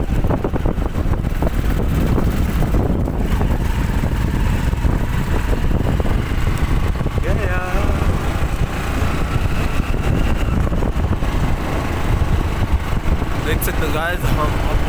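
A motorbike climbs a scenic hill road toward a Jain temple near Ajmer, its engine droning steadily under heavy, continuous wind buffeting on the microphone, with people talking over it.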